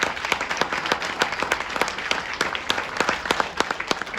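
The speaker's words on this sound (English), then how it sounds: "A big round of applause for them" A corporate event audience gives applause in a sparse, moderately loud run of individual hand claps that stay fairly even for several seconds, with no talking over them.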